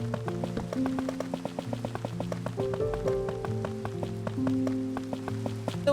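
Rain falling in Minecraft, a steady patter of drops on surfaces with quick repeating ticks over a low droning bed, continuous and close.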